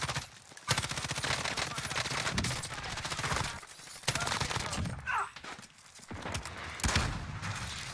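Rapid gunfire from a Warzone match, bursts of automatic shots crackling close and loud almost throughout, with short gaps between volleys and some faint distant shots.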